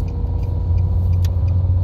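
A car engine drones and revs steadily during a driving lesson, a loud low rumble held throughout with no speech over it.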